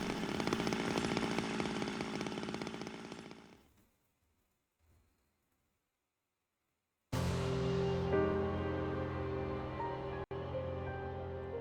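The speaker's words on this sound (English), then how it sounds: "She got that chainsaw." A chainsaw in the video game Zero Escape: Zero Time Dilemma roars loudly at close range, fades out into a few seconds of near silence, then snaps back to a full, harsh buzz.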